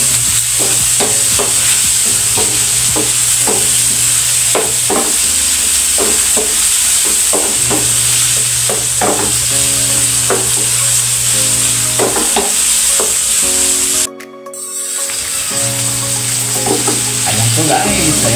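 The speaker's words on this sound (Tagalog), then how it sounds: "Pwede po natin halo-haloin." Bitter gourd and tomatoes, seasoned with ground black pepper and salt, sauté in a hot pan with a loud, steady sizzle. Repeated stirring scrapes run through it, and the sound drops out briefly near the end.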